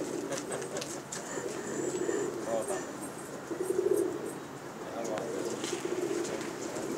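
Pigeons coo in soft, repeated low rolling calls at a pigeon-keeping loft, steady throughout with faint voices and ambient noise in the background.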